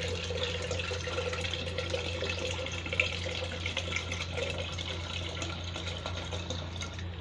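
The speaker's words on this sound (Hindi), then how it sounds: "मसाले में मैं ढोकली उबले का इतना पानी डाल रही हूँ।" Boiled dhokli water poured into a spice mixture for Rajasthani dal dhokli, a steady close liquid rush with faint kitchen hum running throughout, no voices.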